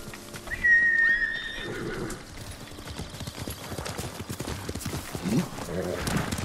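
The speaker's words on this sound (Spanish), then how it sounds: "¿No viene el caballo o qué?" In the video game Ghost of Tsushima, a horse whinnies loudly near the start, then its hooves clip-clop in a steady rhythm as it approaches and trots. Someone talks over the scene throughout.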